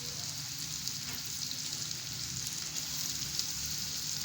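Grated carrots sizzle steadily in a hot pan while being stirred for carrot soup, a soft continuous crackle with faint scraping, fairly quiet and with no talking.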